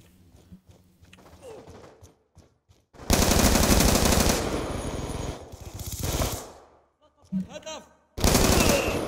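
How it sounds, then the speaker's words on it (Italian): Automatic gunfire in a video game, heard as loud sustained bursts of rapid shots separated by short pauses, with a final burst near the end and a few quieter clatters in between. "Sugar, a chi è che stai sparando?"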